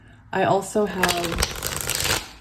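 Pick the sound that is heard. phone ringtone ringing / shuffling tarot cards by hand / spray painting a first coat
shuffling tarot cards by hand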